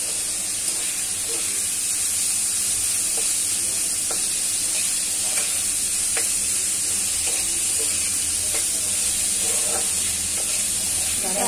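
Chillies fry in a pan for a Bengali dish, giving a steady, fairly loud sizzle and hiss throughout with occasional light stirring clicks and no talk.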